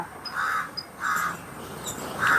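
Crow cawing at a distance, three short harsh calls spaced evenly apart against steady outdoor background noise, with no voices present.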